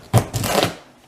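Knife cutting through food at home, a couple of quick crisp chopping strikes against a board with a brief scraping rustle between them, close and fairly loud, no voices.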